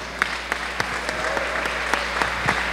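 A church congregation claps together at an evening faith-healing service, a steady, rhythmic round of applause that carries on unbroken, with a low background hum.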